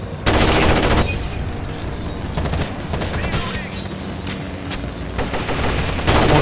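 Gunfire from the video game Rainbow Six Vegas 2 rings out in a co-op library battle, with loud, sustained automatic bursts and scattered single shots that go on almost throughout.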